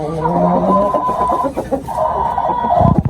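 A broody white Heera hen clucks close up, her steady, throaty calls running almost unbroken with a brief dip midway.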